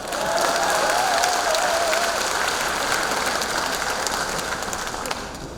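Crowd applause at a city civic report meeting in Gwangyang, a dense continuous patter of clapping that holds steady and loud, with a faint tonal whine briefly riding over it early on.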